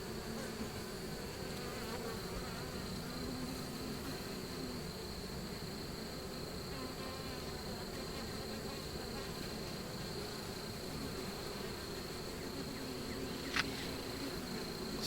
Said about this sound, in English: it's a weird feeling having a bee crawl on your hand